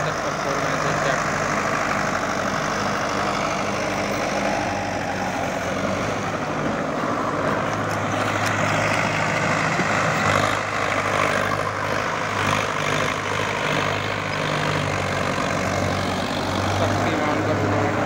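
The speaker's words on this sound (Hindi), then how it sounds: "पावर स्टेयरिंग ट्रैक्टर है, एकदम नया ट्रैक्टर है।" A new Sonalika 60 Sikander power-steering tractor runs steadily and loudly with a heavy mechanical drone, a 7-foot rotavator churning beneath it without pause; no voices.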